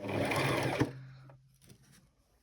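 A sewing machine runs a quick back stitch across a Christmas stocking, a close, rapid whirring burst that stops abruptly after under a second and leaves faint handling sounds.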